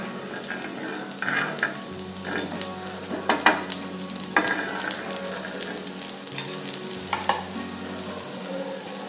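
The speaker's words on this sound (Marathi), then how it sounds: "दुसरी बाजू पण आपण तुपात भाजून घेऊ छान" Thalipeeth, a fasting-day flatbread, fries in ghee on a hot griddle over medium heat, giving a steady close-up sizzle with scattered crackles and small pops and no talk.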